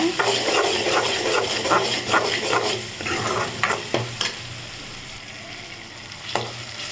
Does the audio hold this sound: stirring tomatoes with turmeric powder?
yes